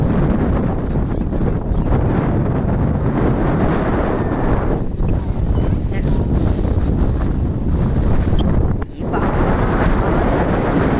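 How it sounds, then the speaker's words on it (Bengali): Strong wind on the beach at Puri buffets the microphone in a loud, continuous roar with low rumbling gusts that never let up, and the sea can barely be heard beneath it. "আর এত পরিমাণে হাওয়া হচ্ছে।"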